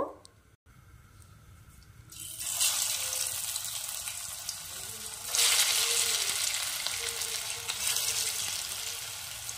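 Soybean kofta, shaped long and slightly flat, frying in hot oil: a steady broadband sizzle starts after a quiet opening and swells louder midway, with a faint stirring clatter and no voices.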